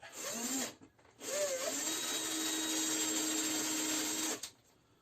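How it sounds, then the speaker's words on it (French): A small drill bit bores holes in two bursts, a brief first spin followed by a longer steady whine, close and fairly loud with a short pause between. "J'utilise une petite mèche."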